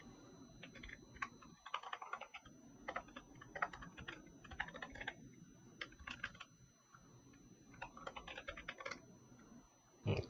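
Typing on a computer keyboard: rapid, irregular bursts of close, quiet key clicks with short pauses between runs and no voices.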